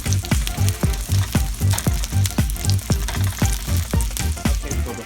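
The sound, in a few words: fries frying in a pan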